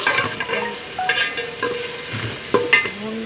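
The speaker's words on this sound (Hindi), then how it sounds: "भून लेते हैं" Ground onion and okra stir-fry in a pan with a steady sizzle, broken by frequent scraping strokes of a spoon and a few sharper clacks against the pan, close up with no talking.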